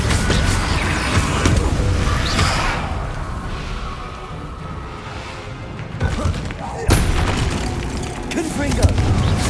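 Deep booming blasts from the Confringo blasting spell in Hogwarts Legacy, heavy thuds and rumbling bursts recurring across the stretch with a loud hit near the end, voices talking over them.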